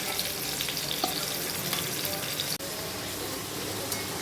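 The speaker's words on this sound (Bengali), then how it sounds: "এগুলোকে একটু লাল লাল করে ভালো করে ভেজে নিচ্ছি।" Ingredients for bottle gourd ghonto fry in a pan, a steady broadband sizzle with occasional stirring scrapes, close and continuous, briefly dipping once partway through.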